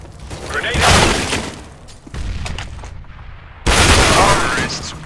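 A grenade explosion and gunfire in the game CS:GO, with a loud burst early on, scattered shots in the middle and a second heavy blast near the end, all close and dense against game background noise.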